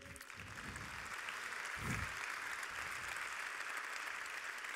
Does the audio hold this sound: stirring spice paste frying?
no